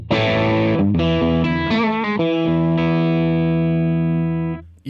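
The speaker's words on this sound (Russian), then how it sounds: "Теперь просто перегруженный звук." Electric guitar through a Wampler Plexi Drive overdrive pedal plays a short distorted phrase of several quick notes, then a sustained chord that rings loud and close before cutting off.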